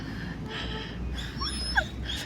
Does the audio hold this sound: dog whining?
yes